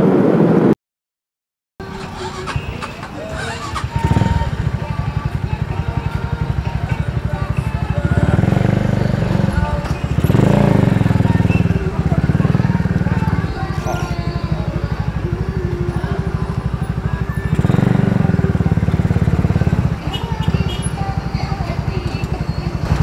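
A motorcycle with a loud racing exhaust rumbles close by, idling roughly, then revving up hard in several surges before settling back.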